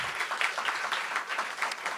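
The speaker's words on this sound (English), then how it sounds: "Let's give a round of applause to these beautiful poets." An audience at a poetry book launch claps in a dense, steady burst of applause that stays moderately loud and close, with no talk over it.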